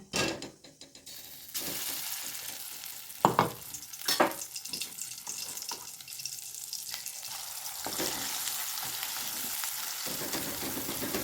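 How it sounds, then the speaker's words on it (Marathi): Ground spice paste for mutton gravy hits hot oil in a kadhai with a loud sizzle, followed by continuous frying hiss and occasional scraping stirs. "इथे कढईमध्ये ना तेल टाकून घेतलेलं आहे त्याच्यामध्ये हा वाटून घेतलेला मसाला टाकायचा आपल्याला"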